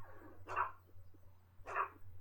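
Two loud, separate dog barks spaced about a second apart, from a dog in the Back to the Future adventure video game, set over a steady low background hum.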